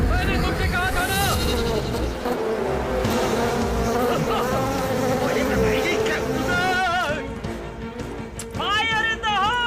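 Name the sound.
swarm of flies buzzing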